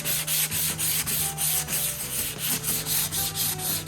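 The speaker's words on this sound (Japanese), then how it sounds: "昨日塗ったパテが乾いたんで、今から紙やすりをかけていきます。" Steady rhythmic scratching of 240-grit sandpaper rubbed back and forth over dried putty on a wall, close and continuous, with a low hum underneath.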